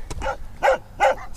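Two large dogs running loose on a mountain trail at sunset bark in three short, harsh bursts at roughly even intervals, fairly close and loud, with no talking.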